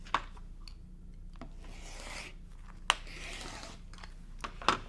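Scissors or a rotary cutter slice through cotton fabric to make 2-inch strips for a cross-stitch pillow, giving soft rasping cuts in short bursts with a few sharp clicks, quiet and close.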